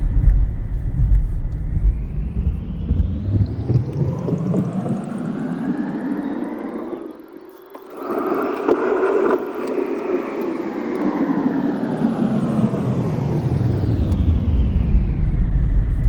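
A Kia EV6 on new tires rolls along at speed, with a broad, steady rumble of tire and road noise that rises and falls in a long arc as the car loops around, briefly dipping quiet near the middle.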